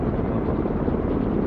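A video game helicopter's rotor and engine roar drones steadily at close range, a dense, unbroken low rumble with no pauses or voices over it.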